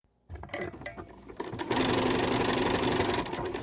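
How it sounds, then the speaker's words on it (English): Sewing machine stitching fabric on fancy stitch number 43, starting after a short silence with uneven mechanical whirring, then settling into a loud steady rapid hum, close up with no talk. "I take my fabric and I put it in the machine as usual, and I'm going to press go with my pedal."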